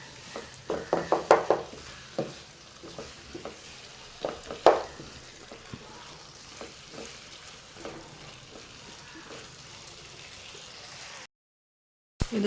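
Kerala koottu curry is stirred in a pan over a soft sizzle, with a cluster of sharp spoon scrapes and knocks early on, then quieter stirring and frying.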